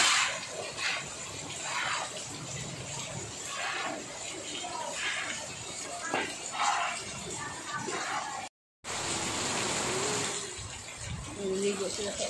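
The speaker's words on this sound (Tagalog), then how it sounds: "Lakas ng ulan." Heavy rain pours steadily outside a home, a dense wash of noise that stays constant apart from one short gap. People talk over it.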